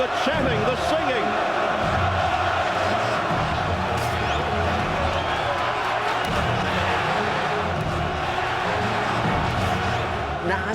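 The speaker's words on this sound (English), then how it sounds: "Listen to this crowd, the chanting, the singing." A dense boxing arena crowd roars continuously throughout, with chanting and singing voices massed together at a steady, loud level and no single sound standing out.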